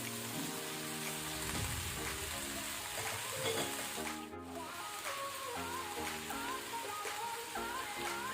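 Small pieces of red potato and cauliflower fry for a sabji with onion, giving a steady sizzle throughout, under a layer of background music.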